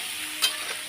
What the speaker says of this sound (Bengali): আলুগুলো এখন লাল লাল করে ভেজে নেব